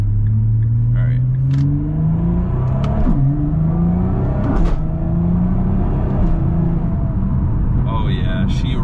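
A Nissan GT-R running on E85 accelerates at half throttle, its engine note rising in a loud, smooth pull through the gears, heard from inside the car with someone talking over it.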